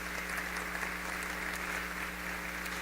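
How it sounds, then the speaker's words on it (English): Applause fills a gala celebration hall, a dense, steady wash of many hands clapping that holds at an even level throughout, with no talk on top. "Round of applause."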